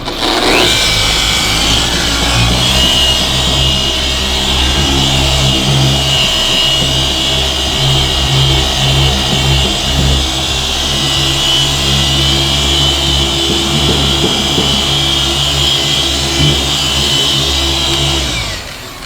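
Polisher buffing a deep scratch out of Toyota 4Runner OEM paint with compound on the pad, a continuous loud whirring drone with a steady high whine and rubbing texture, running unbroken for nearly twenty seconds.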